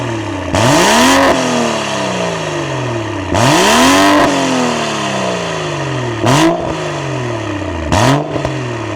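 A BMW M135i with a 3-litre engine revs hard four times, each blip rising sharply then falling away with a throaty exhaust note, the last two shorter and quicker, loud and close with no talking.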